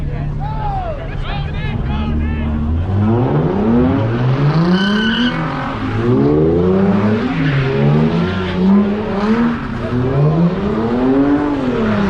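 A Nissan Z at a late-night car meet revs hard with rising and falling engine pitch while tires squeal, loud and close, with people talking throughout.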